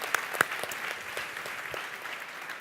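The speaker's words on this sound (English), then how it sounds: "Big round of applause" Applause from an audience at a Nicholas Negroponte event as Google's Jeff Linnell is welcomed: a fairly quiet, steady spread of clapping with a couple of sharper claps near the start, heard from a distance.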